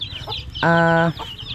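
A chick or hen gives a single short, nasal squawk close by, with faint peeping and soft clucks from other chickens around it.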